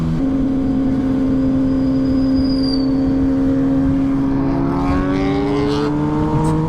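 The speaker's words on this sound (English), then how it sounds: "he keeps doing random pulls just to hear the bike" A Suzuki GSX-R 1000 motorcycle fitted with a titanium SC Project exhaust drones steadily at a held engine note, then its pitch climbs as the revs rise, loud and close without any talking.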